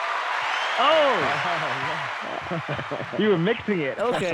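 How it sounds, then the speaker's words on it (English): An applause sound effect plays as a continuous hiss of clapping in the background, while people talk over it. "That's the applause."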